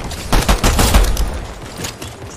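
Turret gunfire in Fortnite, a loud rapid rattle of shots through the first second, tapering into softer scattered fire and echo.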